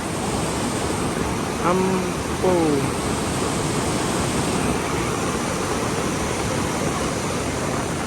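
A swollen river rushes with a loud, unbroken roar of turbulent water that fills the whole scene, while someone speaks briefly over it.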